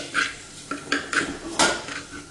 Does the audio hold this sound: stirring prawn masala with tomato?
yes